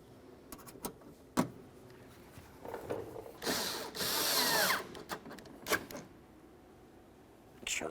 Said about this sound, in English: Now I'll use a wrench to hold each of those nuts as I tighten them from the outside.